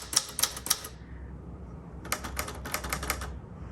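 An Adler J5 typewriter from roughly the late 1960s to mid-1970s being typed on, with three crisp keystrokes, a pause, then a quicker burst of clacking keys, close and fairly loud.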